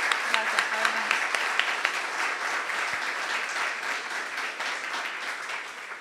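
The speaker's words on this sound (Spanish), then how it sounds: "Por favor, un aplauso." Steady audience applause fills a symposium at a film restoration festival, dense continuous clapping from a crowd that holds level for about six seconds before easing slightly at the end.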